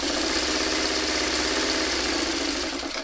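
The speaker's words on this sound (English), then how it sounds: "I'm just sewing half square triangles together that are white just because I can." A sewing machine runs steadily as it stitches white half square triangle quilt pieces together, a close, continuous mechanical whir with a fast regular chatter and no pauses or talking.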